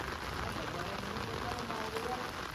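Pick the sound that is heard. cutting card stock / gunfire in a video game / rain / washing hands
rain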